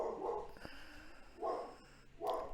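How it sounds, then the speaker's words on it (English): A dog barks three times in a home studio, short sharp woofs spaced about a second apart, close and moderately loud with quiet pauses between. "My dog wants to be a part of this video."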